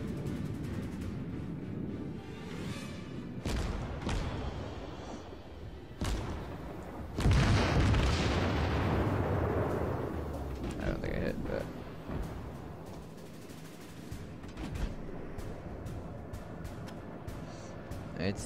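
Naval guns firing in the World of Warships video game during a match in the Kawachi battleship, with deep booming salvos and rumbling blasts amid steady engine and sea noise, while someone talks over it.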